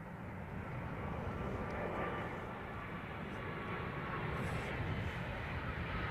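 Jet engine thrust roars from an aircraft at London Heathrow Airport, a loud, broad, steady rumble heavy in the lows that stays constant throughout, heard from nearby outdoors.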